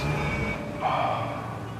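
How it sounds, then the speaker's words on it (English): Repeated car horns beeping ring out over steady rumbling traffic noise in Egypt, fairly loud and continuous throughout. "It's not just the traffic, it's just beeping."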